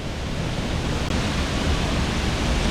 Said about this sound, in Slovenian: Prelep Tolmun ob slapu.